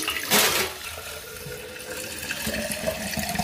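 Water pours steadily into a custom header tank on a 700hp Nissan March race car, a continuous splashing, gurgling trickle heard close with a brief louder gush at the start.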